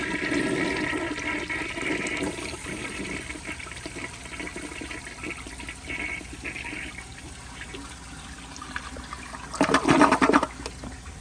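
A 1975 Kohler Highline toilet with its original tank flushes slowly: a long rushing, gurgling swirl of water at close range that ends in a louder surge of draining and refilling, with no voices.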